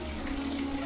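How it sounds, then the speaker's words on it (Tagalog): Water runs steadily from a bathroom faucet, a continuous close hiss and splash with no break, alone without talk. "biglang nakarinig kami ng may nagbukas ng tubig sa CR"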